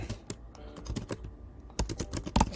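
Computer keyboard typing in short irregular bursts of clicky keystrokes, close and fairly quiet, with brief pauses between runs and a faster flurry near the end; no voices.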